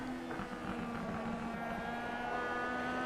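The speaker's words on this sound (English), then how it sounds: "And you can hear, sure, the engines are loud. The tires are just as loud, if not louder, through the corner." Race car engines drone steadily at a distance through a corner at Slinger Speedway, a sustained tonal hum with a faint underlying roar of tires, continuous and even in level.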